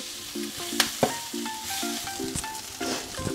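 Chicken upperi, a Kannur-style dry fry, is stirred continuously in a hot pan. A constant close sizzle is broken by repeated scraping strokes and a couple of sharp metallic clinks from the spoon.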